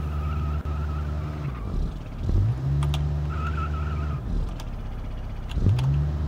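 A front-wheel-drive car in the BeamNG Drive racing game does a burnout, its engine droning and revving in steady surges while tires squeal and skid, loud and close with no talk.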